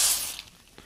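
A short, close burst of spray hisses as cutting oil hits the spot being drilled, fading within a fraction of a second into quiet, with a couple of faint ticks afterward.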